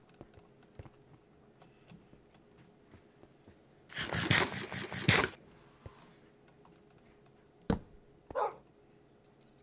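A dog barks in the video game Minecraft, a single loud burst of rapid barking lasting about a second midway, with quiet keyboard clicking and another short bark later.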